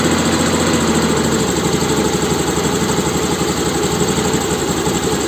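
Motorcycle engine idling steadily after a carburetor cleaning and RPM screw adjustment, a continuous close, loud, even mechanical hum with rapid low pulsing and no talk.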